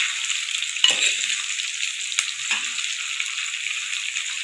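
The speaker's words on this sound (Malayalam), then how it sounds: "ഇനി നമുക്കിതൊന്ന് ഒന്ന് ഇളക്കി കൊടുക്കാം" Mango pieces cooking in a pan over low heat for thairu manga, giving a steady hissing sizzle with a few soft stirring scrapes. The sound is close and even, with no voices.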